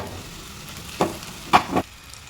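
Potatoes drop into a pan of fried onions with three short sizzling bursts, one and then a quick pair, over a quiet kitchen background.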